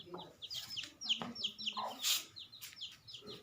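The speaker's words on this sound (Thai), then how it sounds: "อันนี้ก็ไก่ ไก่ชน ไก่ชนจะเยอะมากกว่า" Fighting roosters cluck and call in a busy flock, with repeated short clucks and bursts of crowing overlapping at close range, mixed with a few chirping birds and faint background sounds.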